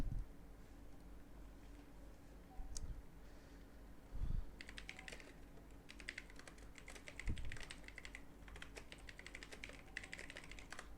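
Quiet keyboard typing during a Rainbow Six Siege esports broadcast, with bursts of rapid key clicks in the second half over a low steady background hum, with no talk.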